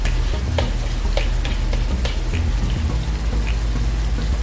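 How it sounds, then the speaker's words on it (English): Brown rice hitting a hot frying pan for a low-sodium chicken stir fry, giving a loud, dense, continuous sizzle and crackle with scattered sharper pops, close up and without speech. "I'm just gonna take the brown rice and pour it into the pan"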